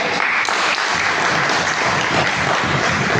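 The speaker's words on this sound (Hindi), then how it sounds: "ताली" An audience claps for a cleaning team leader at a Hindi-language event, loud continuous applause from many hands, close and dense, holding steady to the end.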